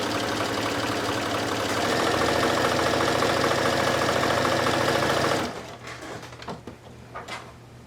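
A sewing machine stitches quilt fabric on a quarter-inch seam for scrappy coasters. It runs as a loud, continuous whirring buzz for about five seconds, then stops, leaving scattered faint clicks and handling noises.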